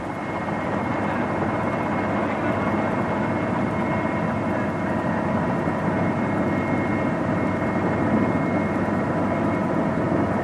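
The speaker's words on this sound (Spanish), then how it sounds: "Al oír el sonido del helicóptero" A helicopter flies over rice paddies near excavations in Vietnam, its rotor and engine drone steady and continuous throughout, fairly distant and without talk.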